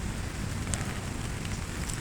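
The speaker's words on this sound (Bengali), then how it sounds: "আজকে 11 তারিখ কি প্রচুর পরিমাণে বৃষ্টি হইতেছে" Heavy rain pours down in Singapore, a constant broadband hiss of water striking surfaces, with gusty wind buffeting the microphone.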